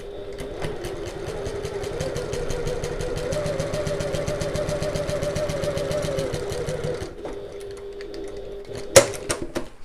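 A sewing machine stitching along a marked diagonal line on a bag strap, running in a continuous fast rhythmic whir for about seven seconds before stopping, followed by a brief clack, close and loud.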